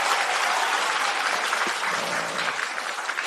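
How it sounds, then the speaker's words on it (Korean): A large crowd at a women's rally ahead of the 2024 general election gives sustained, even applause, a thick continuous roar of clapping with no break. "큰 박수 한번 부탁드리겠습니다"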